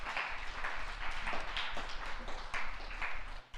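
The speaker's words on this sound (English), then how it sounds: "let's give him a round of applause" Audience applause fills a school morning assembly, a steady spread of many hands clapping at moderate distance, with a few louder bursts and faint noise underneath, fading slightly at the end.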